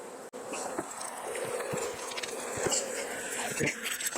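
Honeybees in an opened hive that has been pulled down, producing a steady, dense buzzing drone throughout with scattered soft taps and handling bumps nearby.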